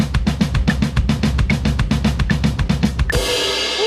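Drum kit playing fast sixteenth-note triplet patterns, loud and close, with a burst of rapid double-kick bass drum strokes and ringing cymbals at the end.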